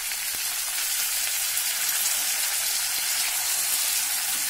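Curry leaves dropped into hot oil with the gas turned off, for a tempering poured over kadhi dumplings: a steady, dense, hissing sizzle, loud and close throughout with no break.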